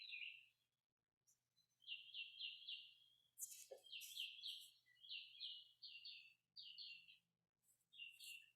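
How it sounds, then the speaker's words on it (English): Several birds chirp outdoors in quick, repeated bursts of high tweets, with short pauses between phrases, a brief low call in the middle, and a faint steady hum underneath. "I think the birds are very active today."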